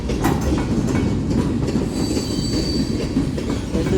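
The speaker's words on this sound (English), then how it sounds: "This is definitely a mixed freight train, a mixed manifest." A CSX mixed manifest freight train rolls past close by, a loud steady rumble of railcars with wheel squeal and faint rhythmic clatter throughout.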